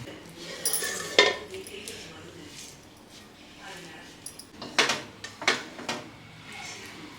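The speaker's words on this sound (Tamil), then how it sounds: "இந்த சட்டியில் கொஞ்சம் சாதம் போட்டு பிசைஞ்சு சாப்பிட்டு பார்ப்போம்" Rice being served and mixed with a spoon in a clay pan used for squid fry, repeated scraping and clinking of spoon on the pan in uneven bursts, near and moderately loud.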